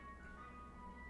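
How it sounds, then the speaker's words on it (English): An ice cream truck passes outside, its chiming tune faint and distant, heard steadily through a room with no talking. "I don't know if you guys heard the ice cream truck outside."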